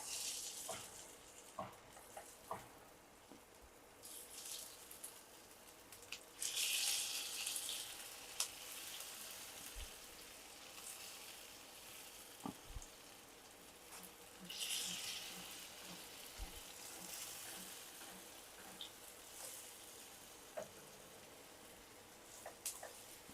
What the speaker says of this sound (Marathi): तेल तापलेलं आहे. आता त्याच्यात या वड्या ठेवते.